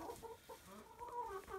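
Chickens in a small backyard coop cluck softly in short, uneven bursts, faint and close.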